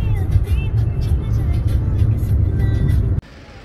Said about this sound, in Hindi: मैंने भी बहुत तेज गाड़ी चलाई, 120 टच कर लिया